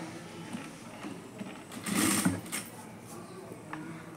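A sewing machine stitching a blouse, its brief whirring run swelling near the middle and then dropping back to faint mechanical ticking and room noise.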